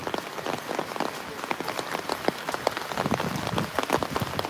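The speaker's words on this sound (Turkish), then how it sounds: "Yağmur başladı." Heavy rain falls on a hard surface, a constant crackling patter of drops throughout, with no talking.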